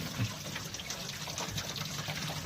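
Water drains from a newly installed sink in a camper, a soft steady trickle and gurgle heard close up and fairly faint, with no talking.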